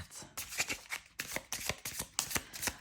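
Oracle cards are shuffled and drawn by hand, giving a close, quiet series of crisp riffling bursts in an uneven rhythm with no talk.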